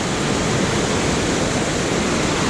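Raging river waters in Lucerne in the Swiss Alps, a dense, constant rushing roar, loud and near, with no break or other sounds on top.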